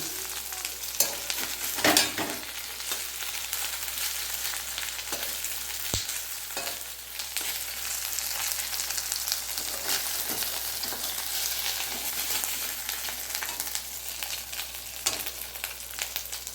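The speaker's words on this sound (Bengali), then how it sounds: "হয়ে এসছে মাছ ভাজা" Fish fries in a pan in a home kitchen with a loud, steady, close sizzle, a bright hiss that holds throughout, with occasional clatters and no one speaking.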